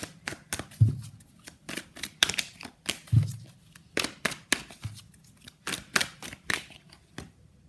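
Tarot cards are shuffled by hand, giving a run of quick, crisp riffling snaps and flicks at an irregular rhythm, fairly close and alone with no speech.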